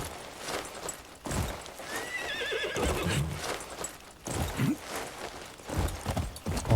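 A horse in the video game Crimson Desert whinnies with a high, wavering neigh over steady clip-clop hoofbeats, with occasional snorts, close and fairly clear through a rhythmic gallop.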